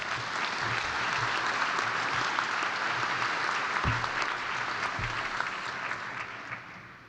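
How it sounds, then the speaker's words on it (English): A graduation audience at the Penn Dental Medicine Class of 2024 DMD commencement ceremony applauds, a sustained, even wash of clapping that fills the hall and slowly tapers toward the end. "Give them an applause."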